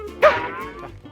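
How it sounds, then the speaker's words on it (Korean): A single short, high-pitched bark from a Boston terrier, close by, with a slightly squeaky, pig-like grunting tone over quiet room noise. "짖을 때 목소리가 약간 돼지 소리가 나요."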